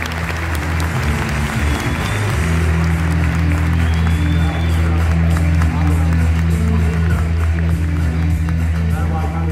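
A Bursa digital media event audience breaks into dense, sustained applause that fills the hall steadily from start to finish, mixed with a low hum and a faint murmur of the crowd.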